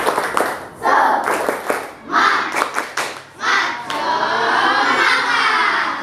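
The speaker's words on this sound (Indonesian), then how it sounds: "Tepuk semangat. Tepuk semangat." A classroom of students performs a rhythmic spirit clap in unison, sharp group claps and desk thumps in patterned bursts with short pauses, ending in a longer run of clapping, and voices chant along with the rhythm.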